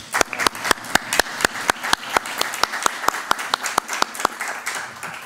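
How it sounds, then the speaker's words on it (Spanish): Applause from a council session audience celebrating the deputy mayor's birthday, heard as a steady run of sharp, evenly spaced claps over a softer clapping wash, moderately loud and without speech. "quiero proponer un aplauso para el teniente alcalde porque hoy está de cumpleaños"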